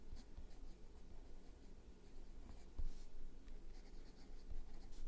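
Pencil scratching steadily across smooth, creamy notebook pages, a soft continuous close-up scribbling with small strokes and taps, quiet and intimate.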